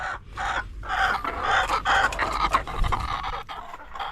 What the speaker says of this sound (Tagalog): Itong mga manok ko.